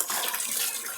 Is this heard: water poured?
yes